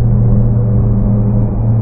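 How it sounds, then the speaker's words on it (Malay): A low, steady Honda CBR650R E-Clutch motorcycle engine rumble drones on continuously, muffled and even in loudness. "Ni bunyi motor kan."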